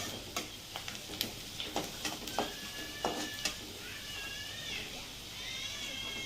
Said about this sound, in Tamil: பொன்னிறமாக வந்த பிறகு தக்காளி போட்டு வதக்கணும்